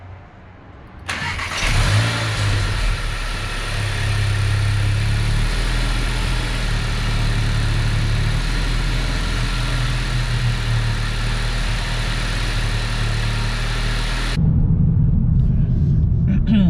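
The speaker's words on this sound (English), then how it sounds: "First cold start with the modification." 2020 VW GTI engine cold-starting after a modification: the starter catches after a second, the engine settles into a loud, steady rumbling idle, then rises in a sharp rev near the end.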